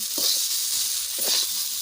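Pieces of taro frying in oil in a pan without spices, a steady bright hiss with soft stirring scrapes mixed in, close and continuous with no talk.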